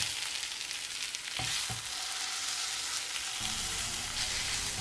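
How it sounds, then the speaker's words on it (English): Minced meat sauteing with onions and a little salt in a pan for Turkish kofte, giving a close, continuous crackling sizzle with a few sharp spatters. "while sauteing the minced meat, I also added about a half a teaspoon salt."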